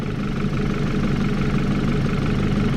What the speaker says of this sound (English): Alright, so I got the engine on, I got the AC on,